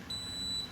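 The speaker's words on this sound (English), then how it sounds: "it's sitting here beeping, but at the same time it's still running." A Thermador Bosch dishwasher with an E24 fault from a frozen pump gives a single steady, high-pitched electronic beep lasting about half a second over a low running hum.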